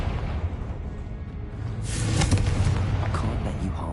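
A Confringo explosion spell cast in Hogwarts Legacy gameplay bursts with a whooshing blast over a steady rumbling game soundscape, swelling midway and trailing off into background noise.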